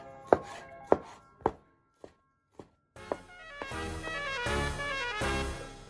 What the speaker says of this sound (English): Cut tomatoes.